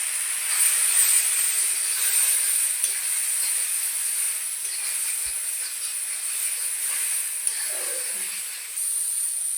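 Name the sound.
spices frying for mango chutney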